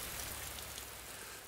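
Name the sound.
rain falling, getting heavier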